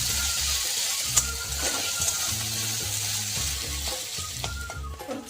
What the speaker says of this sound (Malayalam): നമുക്ക് ആദ്യം ഇഞ്ചി വറുത്തെടുക്കണം.